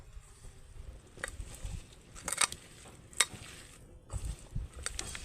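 Egg and lentil mixture with cooking oil is mashed and mixed by hand in a bowl, giving soft, wet squelching and sticky patters in irregular bursts, close by.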